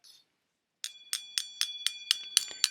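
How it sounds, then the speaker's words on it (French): A small bell rings in a run of eight or so bright, evenly spaced strikes that grow slightly louder, close and alone in a quiet room after a brief faint tinkle. "Vous avez une petite cloche, comme ça peut vous avertir avant"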